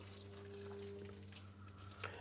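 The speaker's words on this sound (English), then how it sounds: "Pour a little bit of water" Water runs into a cooking pot holding broccoli and cauliflower for steaming. A soft, continuous splashing trickle sounds over a low kitchen hum, ending with a small clink.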